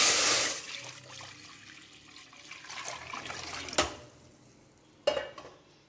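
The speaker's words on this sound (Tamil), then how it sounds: "ஒரு பாத்திரத்தில் தண்ணி சேர்த்துக்க போகிறேன்" Water pours into a metal cooking pot in a home kitchen with a brief hissing splash at the start, followed by quiet handling noises and two sharp metallic clinks.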